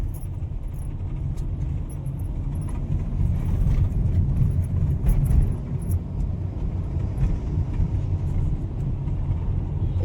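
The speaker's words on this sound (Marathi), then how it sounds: "आमची आता गाडी निघाली आहे" A car pulls away through Aarey Colony in Mumbai, heard from inside as a steady low road rumble with faint rattles and no talking throughout.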